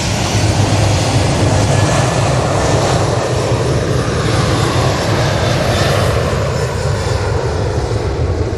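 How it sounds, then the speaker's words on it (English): Ryanair jet taking off at full thrust at Manchester Airport: a loud, sustained, rumbling engine roar with heavy low end, unbroken for the whole stretch. "That Ryanair just got on there and just went, let's go Toga."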